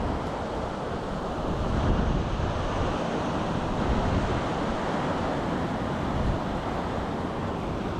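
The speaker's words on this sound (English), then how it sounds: "Crazy stormy weather here at the coast" Waves and wind on a stormy coast at Arbroath, Scotland: a constant roar of surf with heavy gusts buffeting the microphone, loud and unbroken throughout, no voices.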